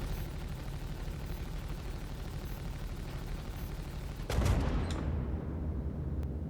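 Continuous rapid ballistic and laser weapon fire from a Hornet F7A Mk 2 fighter in a space combat video game, a dense steady rattle that surges louder with a sharp burst partway through, then continues at full intensity.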